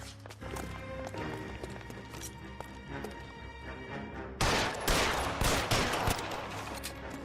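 Gunfire in the LA Noire video game, a dense run of shots over a busy game soundscape that gets louder partway through, with no talking.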